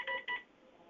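Two quick telephone keypad tones sound faintly in a Board of Assessment Appeals hearing room, followed by quiet room hiss.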